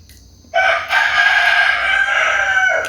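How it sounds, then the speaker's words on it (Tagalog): A rooster crows loudly and close by, one long drawn-out call after a brief quiet start. "May mga manok din nakikisali."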